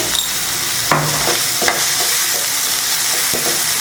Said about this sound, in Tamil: தக்காளி வதங்க கொஞ்சமாக உப்பு.